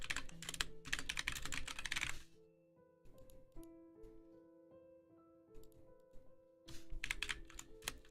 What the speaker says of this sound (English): I need to type